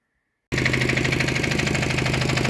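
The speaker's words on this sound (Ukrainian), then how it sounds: "Та якийсь Т-40 там по звуку чую." A T-40 tractor engine runs steadily nearby with a dense, rumbling mechanical drone and a rhythmic knocking pulse, starting suddenly after a short silence and continuing at an even level throughout.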